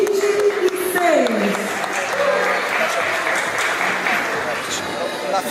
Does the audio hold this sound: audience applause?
yes